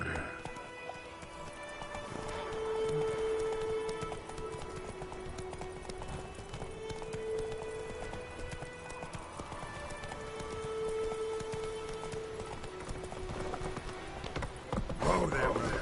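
Hooves of Geralt's horse galloping in The Witcher 3, a steady rhythmic clip-clop running throughout under music, with spoken dialogue overlaid.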